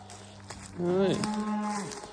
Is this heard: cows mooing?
yes